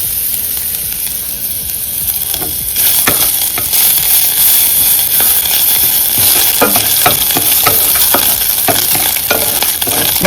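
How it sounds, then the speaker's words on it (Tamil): Lentils and grated ginger fry in a pan for tempered idli, giving a loud, continuous sizzle broken by repeated scraping strokes as the mixture is stirred. "பருப்பு நல்லா ஃப்ரை ஆயிடுச்சு"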